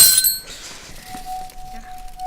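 A sharp glassy crash opens, followed by tinkling shards and a lingering high ringing tone as the sound fades.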